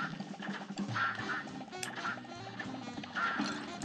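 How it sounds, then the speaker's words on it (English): A cartoonish duck quacks in a difficult modded platform video game, with several nasal quacks over busy music and game effects, and no talking. "I think I parried the duck that time"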